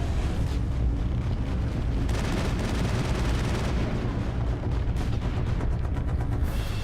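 A biotic throw lands in Mass Effect amid the siege of the Citadel, a loud sustained roar of blasts and gunfire-like bursts filling the whole stretch.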